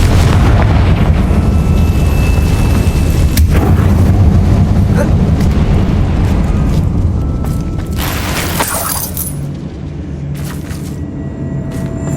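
Confringo fire-blast spell explosions in Hogwarts Legacy, cast inside an abandoned mine: a loud, close, heavy booming rumble runs throughout, with sharp bursts and no talk.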